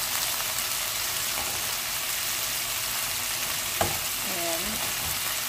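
Garlic and onion frying in a pan for pancit, a dense, even sizzle like steady rain running throughout, with one brief clink of a utensil and a faint tonal squeak near the end, no talking.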